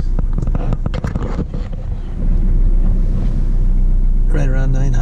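A 2004 Dodge Neon SXT with a 2.0L engine idles at around 900 RPM after a coil pack replacement, a steady low rumble heard close up beneath gusty wind noise and some handling sounds.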